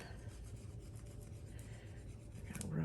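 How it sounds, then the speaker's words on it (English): A glued paper card is rubbed down by hand, giving a quiet, continuous scratchy rubbing with soft repeated strokes and a slightly louder scrape at the end. "Rub that one down"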